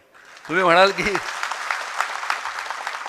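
Someone speaks briefly at the start, then a crowd of mill workers at a public meeting breaks into steady, moderately loud clapping that carries on to the end.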